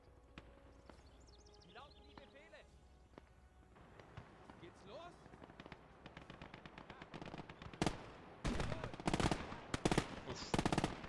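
Gunfire from the Gates of Hell war game, including anti-tank rifle shots, cracks in scattered sharp reports that grow louder and denser toward the end, with someone talking over the battle throughout.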